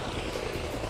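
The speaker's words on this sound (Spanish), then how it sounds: "Y un helicóptero de la Fuerza Aérea que lo acompaña." An Air Force helicopter flies overhead at Valle Nuevo, Constanza, a loud, continuous rotor roar with dense broadband noise filling the whole moment, no voices.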